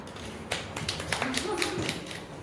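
A school class claps for a student in a physics lesson, a short burst of scattered, uneven hand claps starting after a brief pause, close and moderately loud, with some voice underneath.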